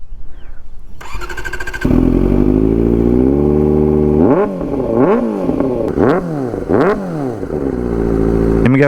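A Kawasaki motorcycle fitted with a custom exhaust starts up with a rough clatter, then settles into a loud idle before being revved hard several times in rising and falling bursts, close by with no talking.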